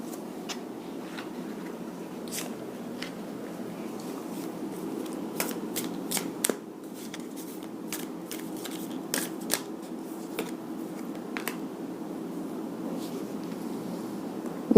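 Tarot cards being shuffled and drawn for a past, present and future reading: close, soft paper riffles and crisp snaps of cards being flicked out, clustered in short bursts over quiet room tone, with no speech.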